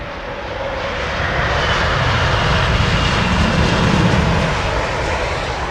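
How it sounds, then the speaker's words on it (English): A British Airways Boeing 777 lands at Heathrow Airport, its jet engines a steady broadband roar that builds after the first second and holds loud and close to the end, with no voices. "BA 777 landing."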